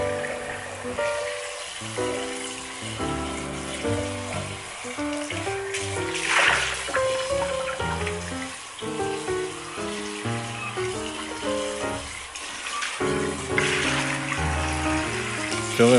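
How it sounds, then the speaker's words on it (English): Water runs steadily into a blender's glass jar as it is rinsed out, a continuous splashing wash with brief louder surges, heard under background music. "To clean up, all you have to do is rinse out the glass jar."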